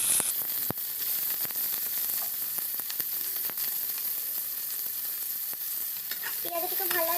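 Onions fry in oil with cinnamon, cloves and black pepper, giving a soft constant sizzle broken by sharp clicks of stirring and a few scraping knocks toward the end.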